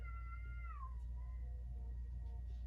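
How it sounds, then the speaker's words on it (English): A faint, distant cat meow from outside with a falling pitch, heard once over a low steady hum. "apparently there's some random cat outside."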